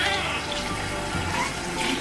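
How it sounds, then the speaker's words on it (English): A baby splashes and plays with running water at a hospital sink, a steady close wash of water with small splashy bursts throughout. "He's playing with the water already."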